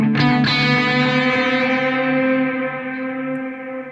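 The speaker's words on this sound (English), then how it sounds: "the other thing about Echo Boy and these stereo delays is it's really fun to get this eighth dotted" A sustained, distorted tone runs through an Echo Boy stereo delay set to dotted-eighth timing, its repeats layering into a smeared, reverberant wash that slowly fades.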